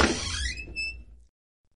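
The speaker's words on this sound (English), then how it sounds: "Open the door." A door squeaking open, a short loud creaking squeal that rises and fades within about a second, followed by silence.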